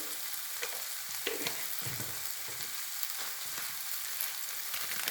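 Soya chunks and potato sauté in a hot pan, with a soft continuous frying crackle and occasional stirring scrapes, heard close and alone.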